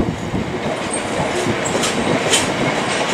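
A Class 66 freight locomotive hauling wagons passes through Redhill station, a steady rolling rumble of wheels on rails with faint clickety-clack, close and continuous throughout without voices.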